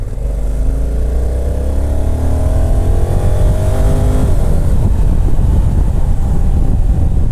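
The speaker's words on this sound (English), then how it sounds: "you give it a load of revs" A 2020 Honda Africa Twin Adventure Sports motorcycle engine revs hard, rising in pitch through several climbing sweeps over about four seconds before settling into a loud, steady rumble mixed with wind buffeting.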